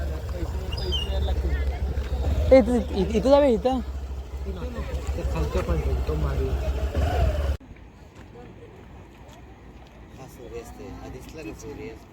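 A low, steady engine rumble runs beneath loud nearby talking, then cuts off abruptly, leaving quieter background voices.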